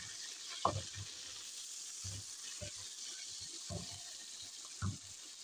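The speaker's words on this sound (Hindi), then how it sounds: "2 अदद शिमला मिर्चें, उनको भी लंबाई में काटा है, इनको भी फ्राई कर लेती हूँ।" Sliced bell peppers frying in a pan, a soft steady sizzle with a few louder stirring clatters and scrapes, heard close and alone.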